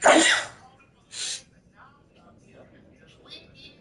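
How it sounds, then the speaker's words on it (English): One loud, close sneeze from a person, followed about a second later by a second, softer sneeze, then faint rustling and quiet background noise. "Why am I sneezing?"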